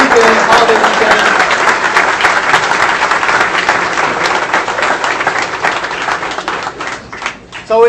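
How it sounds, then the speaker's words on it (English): A rally crowd applauds at a congressman's 2016 campaign kickoff. The clapping is loud and dense with voices mixed in, then thins and turns uneven as it winds down. "Just give a round of applause to my staff, my team is here."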